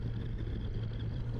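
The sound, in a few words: Kawasaki Versys 1100 SE motorcycle accelerating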